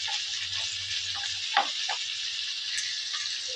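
Grated ginger is tipped into a hot pan while cooking vegetarian potato curry, giving a steady close sizzle and frying hiss with a few brief spatter pops and stirring scrapes.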